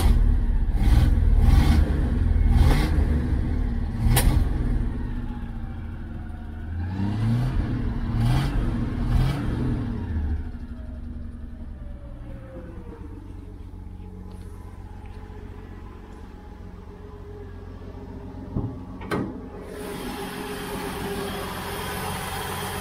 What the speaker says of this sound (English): Carburetor sputtering a little bit.